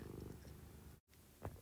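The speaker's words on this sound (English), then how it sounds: "And you'll have to excuse the purring in the background." A house cat purring close by, a steady low rhythmic rumble with a brief gap of silence near the middle and a small soft knock toward the end, no voices present.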